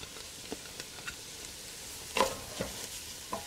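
Chopped leeks and vegetables cook gently over low heat in a pot, a faint, low hiss broken by a few soft scrapes and taps of stirring.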